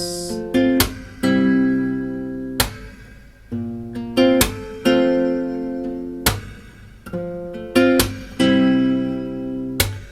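A slow fingerpicked guitar pattern, notes plucked one after another with chords ringing out, played alone and close.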